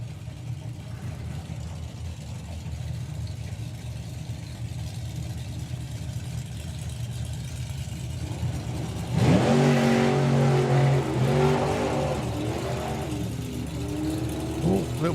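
Rob Brindle's Outlaw Anglia drag race car idles with a low, rough burble at a drag racing event, then revs sharply into a loud, rising engine roar heard from a distance.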